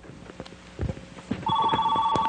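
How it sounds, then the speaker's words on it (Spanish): A telephone rings with a steady electronic trill that sets in partway through and continues loudly to the end, over a room with faint shuffling and knocks and no talk. "ay Dios mío, el teléfono"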